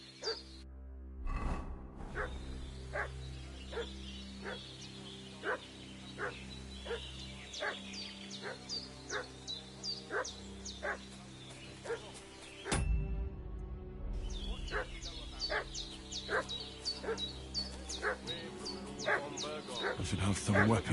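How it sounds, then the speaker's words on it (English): A dog in the medieval role-playing game Kingdom Come barks repeatedly and fusses, sharp evenly spaced barks at moderate distance with a few yips, continuing across the scene with a break partway and resuming, over low ambient game sound. "What's that dog making such a fuss about?"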